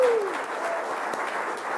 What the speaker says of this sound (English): Can we give a round of applause to all the folks at Project Access?